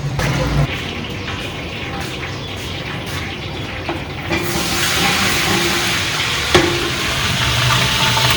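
Chicken frying in hot oil in a large pot for a 12 kg Pakistani dum biryani, a broad steady sizzle that grows louder partway through, with one sharp clatter near the end and no talking.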